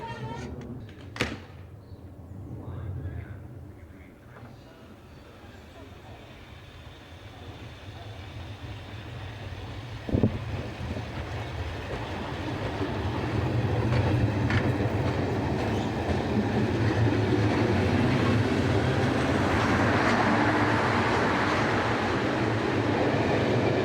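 Southern Trains VEP electric multiple unit at a station, a steady rumble building slowly as it runs past, with a couple of sharp clanks and door-like knocks over continuous rail noise, moderately distant.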